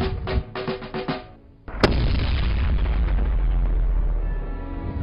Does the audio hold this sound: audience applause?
no